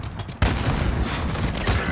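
An Uzi submachine gun fires in a bomb-planting shooter video game, a dense, rapid burst that starts abruptly and keeps going close up and loud.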